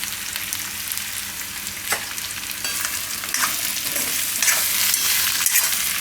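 Spiny gourd (kantola) cooks in oil in a pan, giving a continuous frying sizzle broken by intermittent stirring scrapes and spoon clicks, close and steady throughout.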